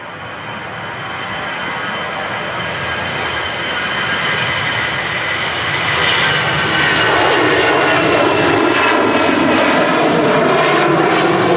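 Aircraft departing a runway at Manchester Airport, with a jet engine roar that swells steadily louder as the plane accelerates for takeoff, heard alone without voices.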